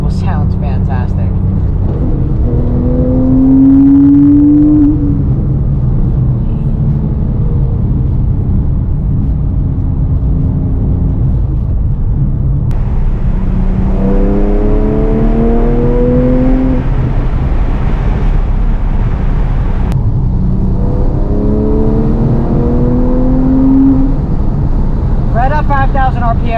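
Porsche 997 GT3 with a 3.6-liter flat-six revs hard while driving, rising in pitch through the gears in repeated climbs with brief drops at shifts, loud and close alongside wind noise, with someone talking over it.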